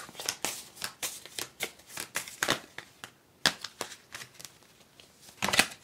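Tarot-style cards being shuffled by hand during a reading, a quick series of crisp riffling and flicking bursts at close range, uneven in rhythm, with no words spoken.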